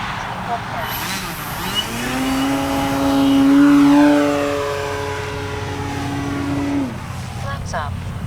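An Avios Grand Tundra V2 RC airplane flies past with its propeller engine whining, the pitch climbing as it nears and then dropping away as it passes, loud at the closest point, with faint talk around it.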